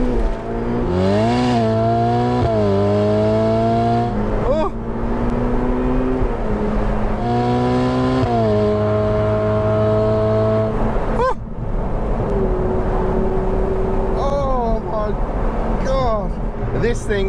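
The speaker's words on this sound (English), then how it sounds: "We actually had wheel spin then on a bone dry day on new tires." A Ferrari 488 Pista Spider accelerates hard from second gear on a dry road with new tyres, its engine note climbing loudly through rising revs with abrupt drops at each upshift, close and continuous.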